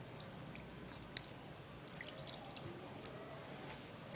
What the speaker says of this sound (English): I'm done grating, and now I'm gonna be extracting the juice